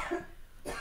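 A short, single cough close by, quick and fairly soft, followed by a brief breathy noise.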